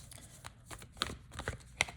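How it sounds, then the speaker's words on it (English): A deck of cards being shuffled, soft rapid riffling and flicking with a few sharper snaps, quiet and close, with no voices. "I've been shuffling those cards since the moment I started talking"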